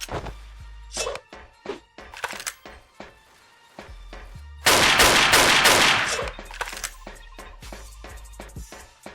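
Rapid bursts of gunfire from the online shooter Wolfteam, with sharp repeated shots and a dense fusillade in the middle, loud and close, mixed with thuds and impacts.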